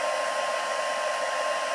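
Craft heat tool blowing on a slower heat setting for embossing, a steady, even rushing whoosh of hot air heard alone and close up.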